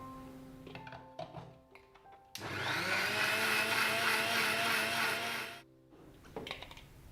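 An electric mixer grinder whirs loudly and steadily for about three seconds as it grinds raw mango and mint leaves, starting and stopping abruptly between quieter kitchen clatter.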